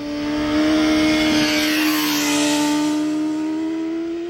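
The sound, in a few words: sport motorcycle engine revving high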